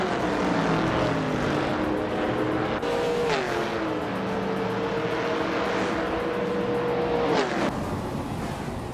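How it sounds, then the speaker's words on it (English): Racing car engines in a video game race, including a 1971 Puma GTB, drone steadily and loudly with pitch sweeps as cars shift and pass, continuous without pause. "Betsma is driving a 1971 Puma GTB"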